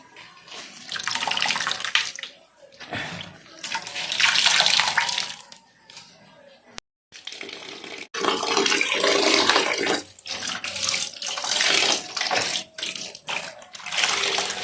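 Tap water runs loudly and close into a sink while food is washed, a steady splashing rush broken by a brief stop and then continuing.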